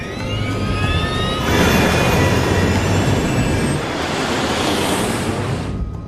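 Trident jet airliner engines spooling to full takeoff thrust, a loud, dense, continuous roar with rising whining tones, steady throughout.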